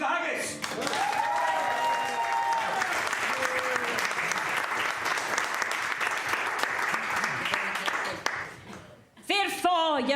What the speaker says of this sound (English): A round of applause, please, for the haggis.